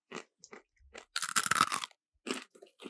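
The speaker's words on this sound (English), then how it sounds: "Corn nuts are so crunchy." Crunchy corn nuts chewed close to the microphone, a few sharp bursts of loud crunching separated by short quiet gaps, with no talk.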